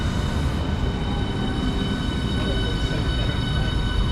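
A refurbished Southeastern Class 395 train unit, 395012, at a Kent station, giving off a steady, close mechanical rumble and hum with faint high whine, continuous throughout.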